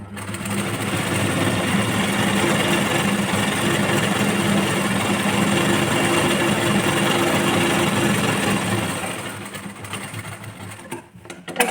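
A sewing machine stitches a blouse strip onto its lining, a fast, continuous mechanical whirr and rattle running steadily for about nine seconds before slowing and stopping.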